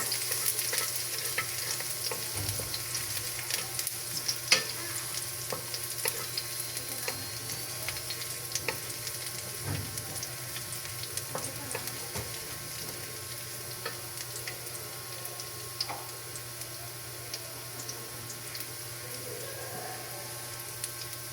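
Garlic frying in a pan for a budget home-cooked Filipino dish, a steady soft sizzle with occasional utensil scrapes and stirring taps, fairly quiet and continuous.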